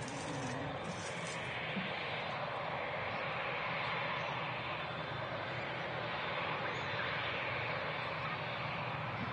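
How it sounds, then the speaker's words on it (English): An Aer Lingus UK A321neo long-range airliner takes off down the runway at Manchester Airport, giving a steady, broad jet-engine roar heard from a distance that holds fairly constant throughout, with no talking. "Now rolling on the runway is the Aer Lingus UK. JFK service with the A321neo long range."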